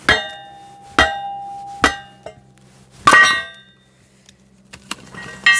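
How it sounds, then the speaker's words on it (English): Metal hammer whacks strike a Kindling Cracker tool splitting wood, four loud ringing clangs at roughly one-second intervals, then quieter knocks and creaks as the piece splits, close and with no talk. "I am going to just give it a couple of whacks and show you how this works."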